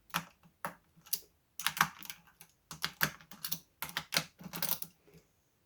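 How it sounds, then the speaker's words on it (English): A 10mm wrench working loose the nuts on a WestCreek Revenge guitar headstock: sharp, irregular metallic clicks and rattles in short clustered bursts, close up, with no voices. "10mm wrench, and loosen all of these"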